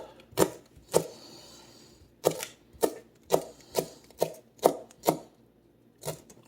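A knife chops through leek green tops on a cutting board in about a dozen sharp, crisp strokes, irregularly spaced and close by, with no talking.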